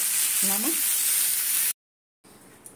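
Vegetables fry in a wok as a dense close sizzling hiss for about a second and a half, a brief voice murmuring over it, then sudden silence before faint quiet kitchen noise returns.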